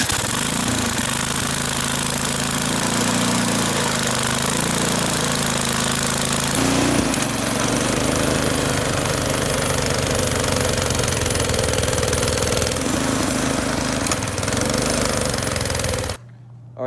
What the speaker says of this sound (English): You just press this red button and it'll turn over.